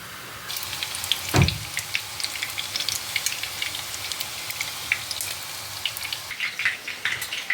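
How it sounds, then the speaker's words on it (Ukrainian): Chicken cutlets crackle and spit steadily in a frying pan as they brown, with a single dull knock from the pan early on and no voices. "Все смажимо з двох сторін до рум'яної скоринки"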